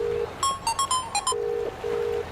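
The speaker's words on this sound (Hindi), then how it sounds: "रुक, पहले सूर्या को फोन लगाता हूँ" A phone ringing on a call: a steady ringback tone pulses twice with a burst of brief electronic beeps between, alone and fairly clear.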